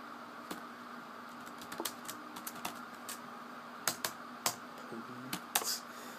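Keys tapped on a computer keyboard while entering a YouTube search, scattered close clicks that grow sharper and more spaced toward the end, over a faint steady hum with no talking.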